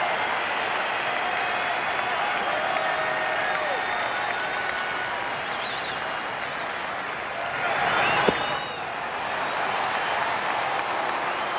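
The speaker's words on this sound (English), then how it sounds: "Crowd getting into it." Crowd at a Mets–Phillies baseball game in a stadium applauding and cheering steadily throughout, swelling briefly louder near the end before settling back to a constant roar.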